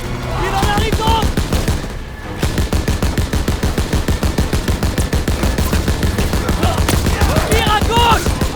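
Rapid, sustained gunfire from Call of Duty: WWII campaign combat, dense machine-gun bursts rattling loud and close almost without pause, with a short lull near two seconds and shouted voices mixed in.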